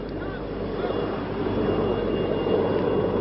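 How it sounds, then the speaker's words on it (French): Helicopter circling low over the grounds of a hotel under heavy security, a steady rotor and engine drone that holds fairly constant and close throughout, with no speech over it. "Un hélicoptère survole également les abords de l'hôtel."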